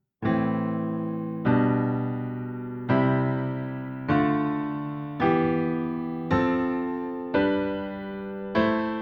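Sustained piano chords change one after another at a slow, even pace, each struck about every second and a half and left ringing.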